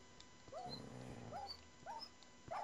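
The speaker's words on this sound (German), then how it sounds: "du hast deinen Hund geschlagen" A dog whimpers in Minecraft, giving a few short, faint whines spaced through the clip over low background noise.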